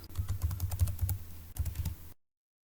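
Code typed on a computer keyboard, a close, rapid run of crisp key clicks with a brief pause and a second burst before abruptly ending in silence.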